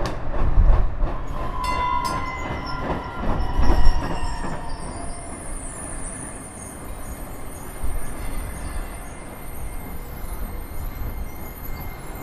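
A DART Green Line light rail train pulls into North Carrollton/Frankfort station, wheels squealing in high tones and rumbling loudly at first, then fading to a steady hum as it slows.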